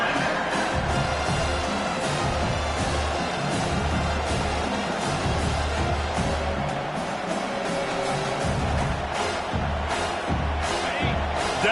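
Football stadium crowd at a South Carolina versus Louisiana Tech game, a loud sustained roar and cheer rising behind the defense on third down, continuous and dense for the whole stretch.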